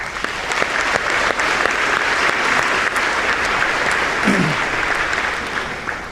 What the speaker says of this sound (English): Let's please give everybody a hand.